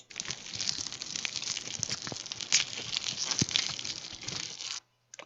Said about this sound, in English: Got some corn sounds.